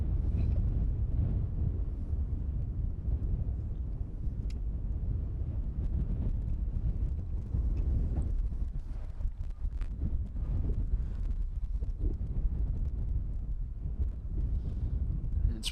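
Strong crosswind at Amsterdam Schiphol Airport blasts a microphone near the runway 18R arrivals, a continuous loud rumbling roar with gusting buffets throughout and no clear aircraft sound above it.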